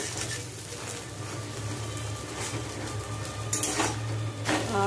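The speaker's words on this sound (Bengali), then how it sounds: "এই দেখো আমার ডিম ভাজা চলছে, তুলে তুলতে নিই, একটুখানি তেল দিয়ে নিই।" An egg fries in a little oil in a home kitchen pan, giving a steady, fairly loud sizzle throughout with a couple of brief utensil clatters near the end.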